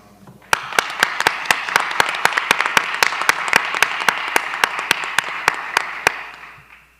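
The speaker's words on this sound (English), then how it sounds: "Let's give those guys a round of applause." Audience applause at a school board meeting: a room of people claps steadily for several seconds, with one sharp, evenly paced clapper standing out close by before the clapping fades.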